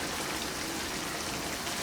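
Marinade sauce is poured around lamb chops and steak in a pan, a steady, close hissing splash that runs unbroken throughout with no talk.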